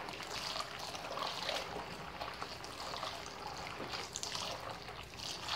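Water is poured and swirled over beans in a sieve to rub off their skins, a faint continuous trickling and splashing with soft irregular swishes.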